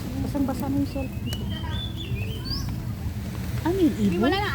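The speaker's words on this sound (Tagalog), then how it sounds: "Ano yung ibon?" Birds call out with short, melodic chirps and swooping whistles, louder toward the end, over steady rain and low background murmur.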